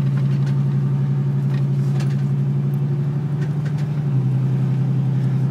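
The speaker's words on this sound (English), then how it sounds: "Doesn't this motor sound good for only being a 6-banger?" A Chevy 4.3L Vortec V6 with a throttle body blade mod runs at a steady, deep idle, a loud low hum that holds throughout and shifts slightly near the end, with no speech.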